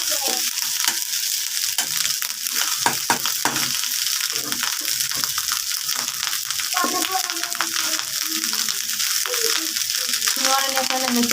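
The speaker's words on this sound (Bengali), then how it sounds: "এই তো আলু দিয়ে দিচ্ছি আলুগুলি ভাজা ভাজা করতেছ" Potatoes fry loudly in a pan with a constant hiss and crackle, while a spatula scrapes and clatters in repeated bursts and brief voices come and go in the background.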